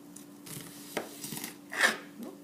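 A kitchen knife cuts through an onion on a cutting board, with a few soft, scattered knocks and slices over a low room hum, one firmer crunch standing out near the end.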